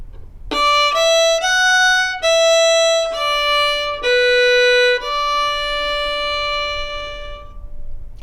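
Solo fiddle playing the B part of the old-time tune Angeline the Baker with its second ending, a run of clear bowed notes that closes on a long sustained final note, close and bright with no talking.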